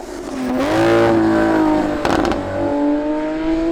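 A Lamborghini Sian's V12 engine accelerates hard with all-wheel drive, its loud rising roar climbing steadily in pitch, easing briefly and then pulling again, close up with no voices.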